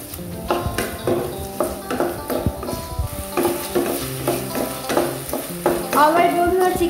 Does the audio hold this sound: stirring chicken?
yes